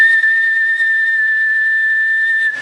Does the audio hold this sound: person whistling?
yes